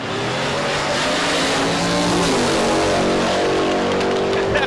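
A street-legal drag car making a high-speed run at Drag Week roars loudly and steadily up close, its engine note strong and sustained throughout, with no voices.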